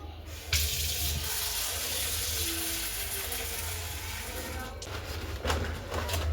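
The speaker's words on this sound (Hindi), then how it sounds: "तो इसको पहले अच्छे से वॉश कर लूँगी।" Tap water runs steadily over chana dal being washed in a sink, a continuous close hiss and splash with brief louder bursts near the start and end.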